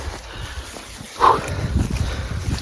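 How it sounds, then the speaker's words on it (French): A distant dog barks once or twice against a low outdoor rumble, faint and far off, during a hunt. "il y a des chiens qui aboient."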